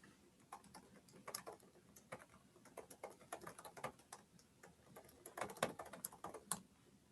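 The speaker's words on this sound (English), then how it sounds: "we'll type the position members will be voting for in the question box" Fingers type steadily on a computer keyboard, filling in a question box on an election ballot form: a busy stream of light, crisp key clicks at an uneven pace, close and fairly quiet, with no voices.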